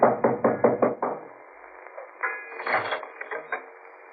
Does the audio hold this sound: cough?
no